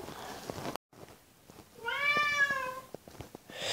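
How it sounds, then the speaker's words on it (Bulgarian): A pet cat gives one clear, drawn-out meow close by, after a few soft clicks and a brief silence, with faint rustling around it. "Извинявайте за това мялкане, това е котката ми."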